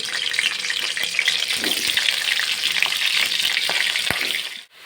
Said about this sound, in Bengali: এখন দিয়ে দিব ফুলকপি আলু তিল এটা তেলে ভেজে নেব ফুলকপিগুলিকে আগে